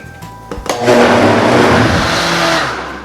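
Countertop blender whirring through cauliflower, oats and cheese-sauce ingredients, spinning up after a few clicks into a loud, steady high-speed drone that stays close and constant.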